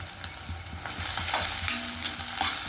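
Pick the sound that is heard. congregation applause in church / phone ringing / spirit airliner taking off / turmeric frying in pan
turmeric frying in pan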